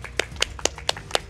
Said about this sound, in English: Applause for Ravoy for spamming enter.